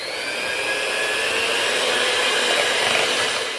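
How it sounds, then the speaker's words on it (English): An electric hand mixer whirs steadily, beating cream cheese and condensed milk for an icebox lemon pie, a continuous close motor hum with a bright high whine and no voices. "Sort of turn your mixer around to get it underneath where it won't sling out all over you."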